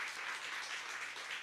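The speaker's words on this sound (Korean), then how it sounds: "박수 해줍시다." An audience at a church gathering gives a round of applause, a soft, even wash of many hands clapping that sounds fairly distant and steady throughout, with no voices over it.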